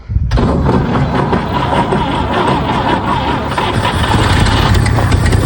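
A 1955 Chevrolet 210 project car with its carburetor in the trunk cranks and fires abruptly, then settles into a loud, steady running rumble close by.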